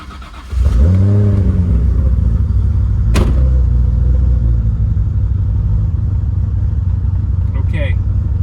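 A modified Nissan R32 GTR pulls away with a loud close engine rev that climbs through the gears, then settles into a steady rumbling drone as it cruises on.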